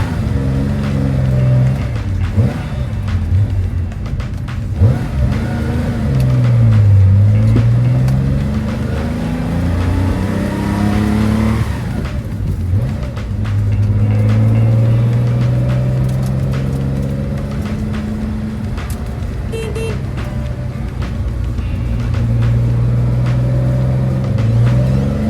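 A 1965 Porsche 904 GTS pulls away after warming up, the engine climbing and falling through several revving sweeps as it drives off, close and fairly loud over steady road and cabin rumble.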